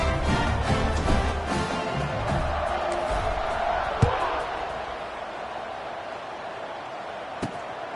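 A football video game's stadium crowd buzzes after a score, a broad steady roar that is loud at first and slowly eases, with a couple of sharp thumps standing out along the way.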